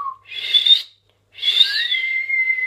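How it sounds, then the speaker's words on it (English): A person whistling two short tones separated by a brief silence, the second sliding and held longer, close and clear. "Can you whistle?"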